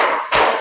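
Two quick, sharp hand claps from a group clapping together on a count, close and loud, the second following right after the first.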